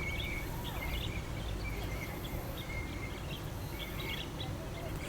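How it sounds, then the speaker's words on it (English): Birds sing outdoors at a campsite beside an RV, their faint, scattered chirps and short calls repeating over a constant soft hiss of background noise, with no one speaking. "Hear the birds sing, wake up in the morning."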